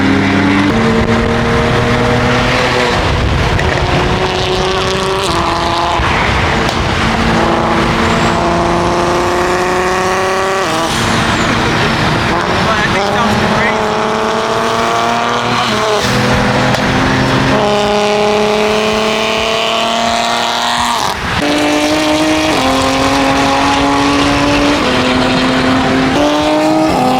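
A loud car fitted with an aftermarket exhaust revs repeatedly at a two-step car meet, engine pitch climbing and dropping in waves close by, with music playing underneath.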